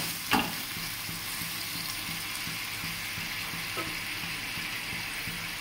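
Poppy seed and vegetable curry bubbling in a pan, a steady sizzling hiss with one sharp clatter near the start and another faint knock later, no voices.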